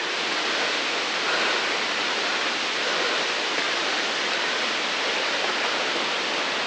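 A waterfall in Kanching Park, Malaysia, roars as a steady, loud, broadband rush of falling water, unbroken and even for the whole stretch, with no voices.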